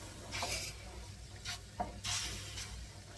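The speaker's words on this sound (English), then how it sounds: "you can see it in the jug. And give it a slosh round." Dye liquid sloshed and stirred in a jug, several short wet swishes and splashes with quiet pauses between, close and fairly soft.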